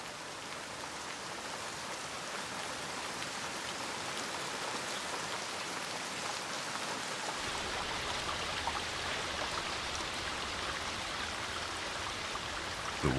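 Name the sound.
rain dripping from leaves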